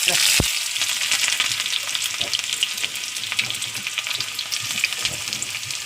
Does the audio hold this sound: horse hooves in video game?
no